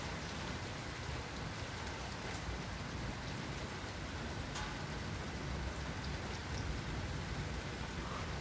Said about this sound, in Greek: Βρέχει.